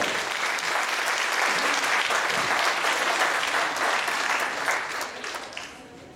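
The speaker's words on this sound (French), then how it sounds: "Voilà, on peut les applaudir encore une fois." Sustained applause from a concert audience at a wind band performance, dense and steady for several seconds before tapering off slightly at the end.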